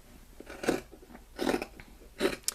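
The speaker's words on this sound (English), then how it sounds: "I'm going to cut approximately 2 inches beyond the cuff here" Scissors cutting sweatshirt fabric near the sleeve cuff, three close crunchy snips spaced about a second apart, with a small extra snip at the end.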